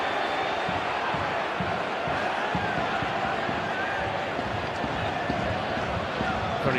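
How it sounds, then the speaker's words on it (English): Travelling Rangers supporters in a stadium roar and cheer over a yellow card shown to the Motherwell captain, a loud broad crowd swell that stays steady throughout, with commentary voices over it. "That gets a large cheer from the travelling support"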